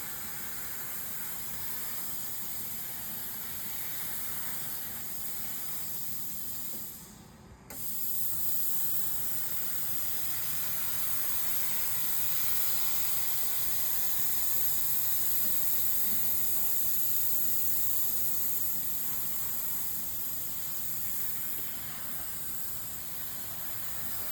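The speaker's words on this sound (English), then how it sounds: "So I'm going to just quickly pre-steam it to eliminate some of them at least." A handheld steamer blasts steady, hissing steam over furniture during a bed bug treatment, a loud continuous spray with one brief dip before resuming unbroken.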